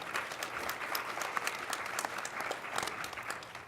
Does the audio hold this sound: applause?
yes